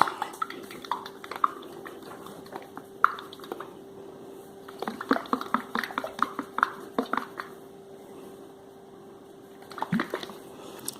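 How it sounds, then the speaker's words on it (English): A covered jar of lemon peel steeping in glycerin is shaken by hand, giving faint, irregular sloshing and rattling bursts over a low steady background hum. "we cover and give it a shake"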